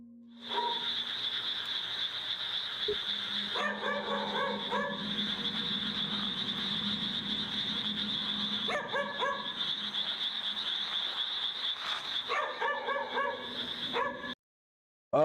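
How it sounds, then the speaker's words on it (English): A dog barks in a graveyard at night, in repeated bursts of several sharp barks separated by pauses, heard from a moderate distance over a steady high insect-like drone. "So, he decides to film as he searches for the barking dog."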